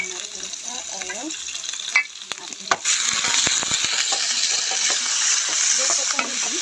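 Garlic frying in oil in a pan for pork bihon, a steady close sizzle with scraping stir strokes and a few sharp clatters, with faint talk in the background early on.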